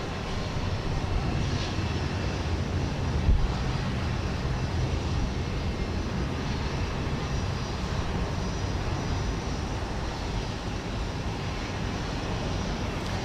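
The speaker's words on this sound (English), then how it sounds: "United Flight 1504 is going to Memphis, 737-800." A United 737-800 taking off from Houston Intercontinental for Memphis, a continuous distant low jet rumble at steady moderate level with no voices.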